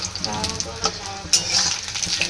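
Peas and paneer pieces frying in a pan, with a steady close sizzle broken by a few sharp stirring scrapes and spatters.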